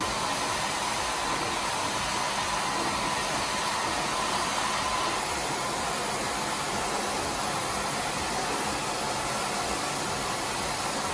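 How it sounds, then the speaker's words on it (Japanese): A hair dryer blowing on curly hair, a loud continuous whooshing hiss that holds steady at near range for the whole stretch, with no speech. "まず向かって右側からまず左側に乾かします。"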